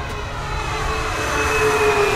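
FMS Tigercat 1700mm RC warbird model plane passing low at tree height under throttle, a steady loud whine of its electric motors with rising tones as it nears, no talk.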